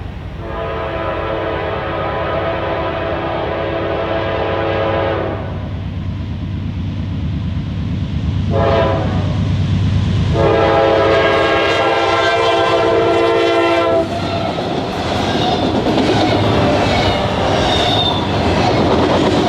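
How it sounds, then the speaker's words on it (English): An eastbound Norfolk Southern intermodal freight train with a mid-train DPU rumbles past loudly on the Chicago Line, rolling wheel noise, its horn sounding long blasts several times before the steady rush continues. "eastbound intermodal train 20T would make an appearance"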